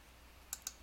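A password is typed on a computer keyboard: two quick, faint key clicks near the end, after near silence.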